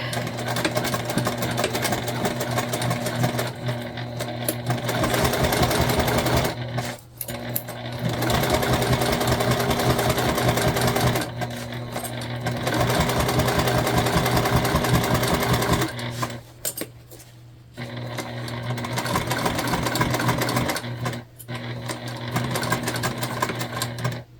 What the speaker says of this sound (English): so we'll sew again, same stitch length as before